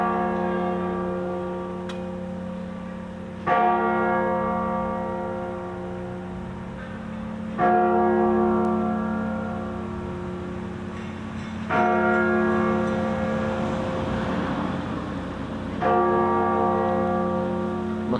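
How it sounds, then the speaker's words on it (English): A church bell in Delft strikes at midday: four loud, evenly spaced strokes about four seconds apart, each leaving a long, humming ring that fades into the next stroke, with no talk. "Taking a little shot here just to capture some of the noise of the bell,"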